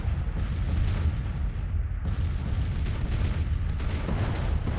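Artillery fire in the Civil War strategy video game Grand Tactician: The Civil War, a continuous dense rumble of booming cannon shots layered over each other, loud and unbroken.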